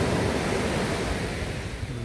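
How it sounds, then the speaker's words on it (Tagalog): Fairly strong ocean waves wash onto White Beach in Puerto Galera, Mindoro, a dense close rush of surf with no pauses. "Medyo may kalakasan yung alon,"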